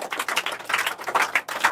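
A classroom of Class 10 students claps loudly for student Urmila Kumari, a brisk, continuous patter of hands with brief dips in intensity.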